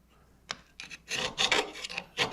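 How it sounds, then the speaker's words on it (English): Round file deburring the flange radii of a metal aircraft nose rib, a series of short close rasping strokes in an uneven rhythm, about eight scrapes. "we round those with this round file"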